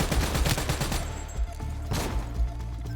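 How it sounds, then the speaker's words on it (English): Rapid gunfire in Call of Duty: Black Ops 3, loud bursts of automatic shots in the first second, then scattered heavier single reports over a constant battlefield rumble. "Taking fire!"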